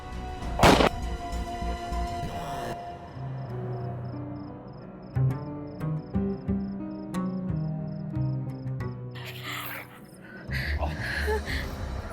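Several sharp gunshot cracks ring out amid a dramatic music score, with a loud burst near the start and more scattered bangs later.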